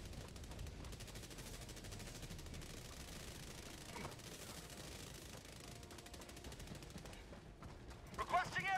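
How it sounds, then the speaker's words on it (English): Rapid, continuous gunfire and distant booming from enemy artillery rattle through a Helldivers 2 battle, a dense, low-level barrage that never lets up, with a few sharper bursts toward the end. "Where is the artillery coming from?"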